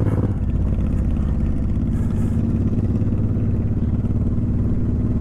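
A Suzuki M109R motorcycle is ridden in cold weather of about 24 degrees, its engine giving a loud, continuous low rumble with a steady throb that holds for the whole stretch, heard up close with no talk.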